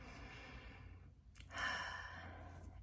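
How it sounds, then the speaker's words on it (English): A slow, deep breath in and out at close range, a soft quiet inhale followed by a fuller, louder airy exhale like a sigh. "let's take some big deep breaths in and out"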